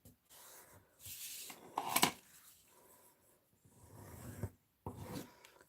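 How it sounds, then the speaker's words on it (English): A paper card base is folded and burnished by hand, giving short scraping rubs and rasping strokes with a sharp crease snap, separated by brief quiet gaps, close and soft. "now let me take my card base and fold and burnish that"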